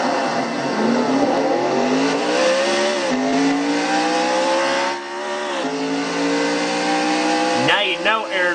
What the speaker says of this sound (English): Gets the car back in gear and just drives like a man possessed.